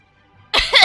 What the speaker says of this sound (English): I actually did need to cough there.